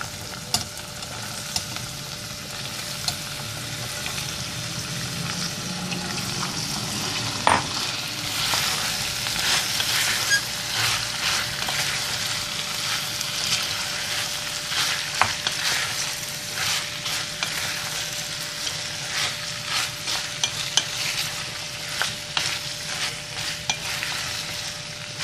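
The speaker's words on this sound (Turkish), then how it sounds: "Evet, güzelce karıştırdık patateslerimizi de." Potatoes and minced meat sizzle and fry steadily in a pan while being stirred, with scraping and clattering stir strokes over a continuous close, moderately loud frying hiss.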